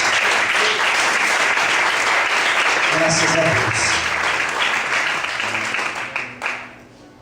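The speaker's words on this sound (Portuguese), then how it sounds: "Vamos aplaudir bem forte ao Senhor Jesus." A church congregation claps loudly and steadily through a worship service, a dense sustained applause that tapers off at the end, with a voice speaking over it.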